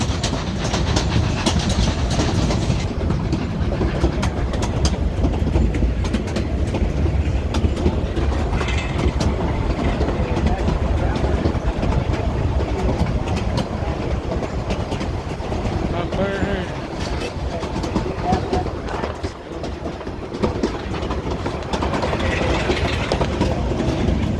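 A train on the Cumbres and Toltec Scenic Railroad rolls steadily along a hillside track with a continuous rumble and rhythmic clatter of wheels, loud and close throughout.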